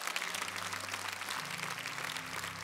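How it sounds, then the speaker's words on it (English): A church congregation claps at a Sunday service, a steady wash of hands running throughout, mixed with a sustained low organ or keyboard chord underneath. "clap your hands and give God glory"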